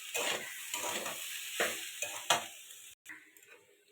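Chopped banana stem with turmeric sizzles in hot oil while a utensil repeatedly stirs and scrapes the pan, close and rhythmic, for a Bengali thor bhaja.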